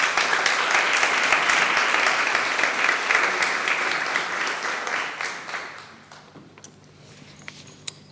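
Loud applause from an audience at a literary poetry contest in La Orotava, steady for about five seconds before thinning out into scattered claps and quiet.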